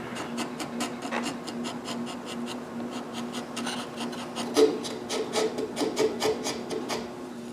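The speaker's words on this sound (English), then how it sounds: "I need to carve around the bags." A hand tool carves and rasps wood around the bags of a small carved Santa figure. Rhythmic scraping strokes repeat steadily at close range over a low background hum, with no voices.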